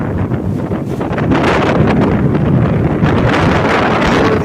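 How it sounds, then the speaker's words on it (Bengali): Strong gusts from Cyclone Remal tear through coconut trees on the Bangladesh coast, a loud continuous roar with heavy wind buffeting on the microphone, rising after the first second and staying intense. "নারকেল গাছের উপরে তীব্র মাত্রায় হাওয়া চলছে"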